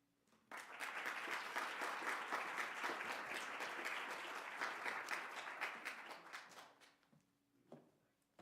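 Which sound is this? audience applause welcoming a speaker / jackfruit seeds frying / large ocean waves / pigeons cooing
audience applause welcoming a speaker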